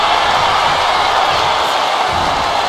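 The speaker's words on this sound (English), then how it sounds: "you hear this capacity crowd following you on that journey" A capacity crowd in a WWE wrestling arena roars and cheers in a steady, dense wash of noise that holds loud and unbroken throughout.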